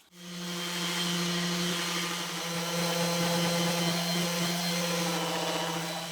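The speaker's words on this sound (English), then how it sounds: "This diamond sanding pad that I've had for about 10 years did an awesome job" A power sander with a diamond pad grinding a concrete basin spins up and holds a steady loud whine and rough grinding hiss, continuous and close with no talk.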